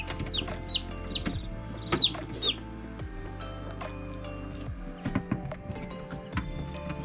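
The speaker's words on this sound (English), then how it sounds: "Open this up and grab one of the baby chicks." Newly hatched, fluffy baby chicks give a handful of short, high peeping cheeps in the first few seconds, then fall quiet under a steady low background rumble.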